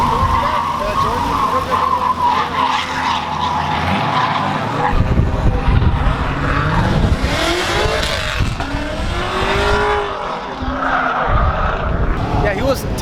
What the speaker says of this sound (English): he was drifting without his e-brake